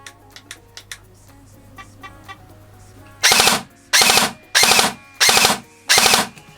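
An airsoft gun on its default settings fires five separate three-round bursts, each a loud rattling volley of about half a second with short gaps between. Faint clicks and handling noises come first.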